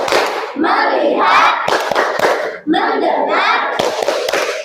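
In a classroom, standing children chant words in a rhythmic clapping game, their sharp hand claps punctuating the loud group chanting.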